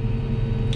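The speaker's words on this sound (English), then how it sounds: "where we're jumping to" A Fendt tractor engine holds a steady, close, low rumble at a fixed rev preset, with no clear jump in speed over the short stretch.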